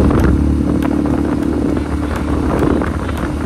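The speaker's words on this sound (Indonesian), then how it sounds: "Ini dia motor-motornya dari grup kami." A group's trail motorcycles idle and rev together, a loud rough engine rumble with irregular clattering bursts, near and continuous, with no speech.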